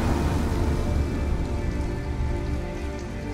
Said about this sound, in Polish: a strasznie leje